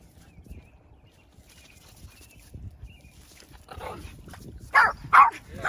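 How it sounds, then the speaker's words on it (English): A dog barks a few times near the end, loud and close, after a quieter stretch of outdoor background noise. "Hey, don't get him barking."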